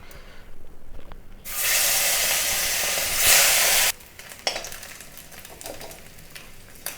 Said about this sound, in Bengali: আবার কিছু মাছ তেলের মধ্যে ছেড়ে দেবো